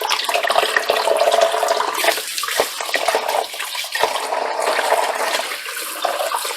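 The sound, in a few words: water running while washing stevia leaves in a bowl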